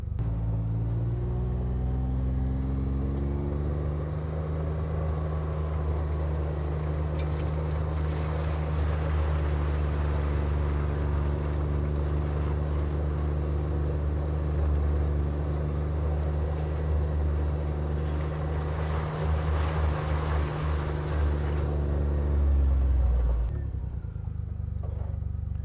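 A Gator utility vehicle drives down a field with a steady, loud engine rumble and drone that holds nearly unchanged for about 23 seconds, then cuts off abruptly near the end.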